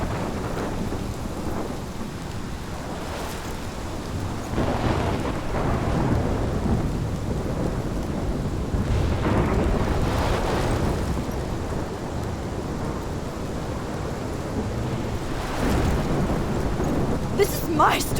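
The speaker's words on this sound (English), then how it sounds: "This is my storm." A thunderstorm in the video game Life Is Strange: steady heavy rain hisses throughout while deep thunder rolls and rumbles swell and fade several times, with a sharp crack near the end, loud and close.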